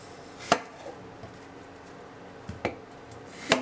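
A knife cuts apples on a board in a quiet kitchen: three separate sharp, close chopping knocks spread out over a few seconds, with faint small clicks between them.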